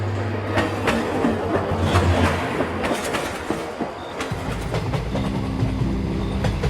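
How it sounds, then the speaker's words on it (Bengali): A train rumbles steadily with a low hum and rattling wheels as it departs a platform, its drone shifting partway through as it moves along. "ট্রেন হর্ন দিয়ে প্ল্যাটফর্ম ছাড়ে"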